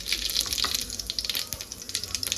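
Cumin seeds fry in about four big spoons of hot oil for an egg curry, giving a fizzy crackling sizzle with quick irregular pops, close and steady throughout.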